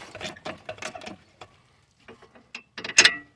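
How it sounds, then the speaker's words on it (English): A car jack is raised under a 7th-generation Nissan Maxima during a strut replacement, giving a series of quick ratcheting clicks and clunks in uneven bursts. A louder metallic clack comes near the end. Close and fairly loud, with no talking. "No, I got to jack it up some more."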